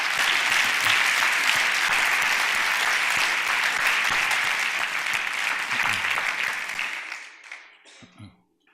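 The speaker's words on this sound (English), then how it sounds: "I think that's worth a second round of applause." A second round of applause for a community donor at a talk on Thomas Jefferson: a dense, loud audience clapping that holds steady, then thins and fades out over the final seconds.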